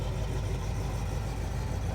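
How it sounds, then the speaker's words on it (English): A big car engine fitted with 331 Hemi heads idles in a steady low rumble, close and even throughout the short stretch, with no speech. "Boy, that's a big engine in there."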